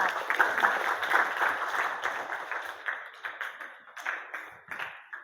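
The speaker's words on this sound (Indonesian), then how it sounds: "Tepuk tangan untuk kelompok 4." A group applauds steadily for several seconds. The clapping thins out into scattered claps near the end.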